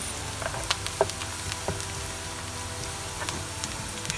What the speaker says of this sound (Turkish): Sonra Tavayı 3 adet soğan doğruyoruz. Güzelce kavuruyoruz.